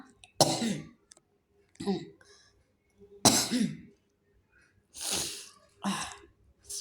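Several loud, close bursts of coughing with short silent gaps between them, a harsh throat-clearing quality to each fit.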